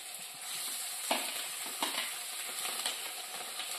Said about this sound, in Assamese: খিনি ভাজি হৈ গ'ল, ইয়াতে দি দিম এতিয়া মাংস।